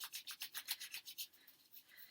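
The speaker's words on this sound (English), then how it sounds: "Rubbing the palms together here." Palms rub together in a quick, even back-and-forth rhythm, giving soft, close, brushing swishes of about a dozen strokes that gradually ease off.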